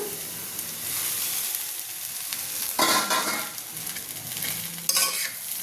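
Egg fried rice sizzles and fries in a hot pan, a steady close hiss with louder bursts of crackling as it is stirred, no voices heard.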